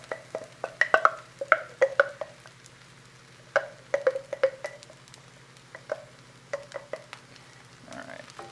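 A vegan frittata mixture is pushed around a frying pan, giving soft scraping and light sizzling in short bursts over a low steady hum, close and fairly quiet, with no talking.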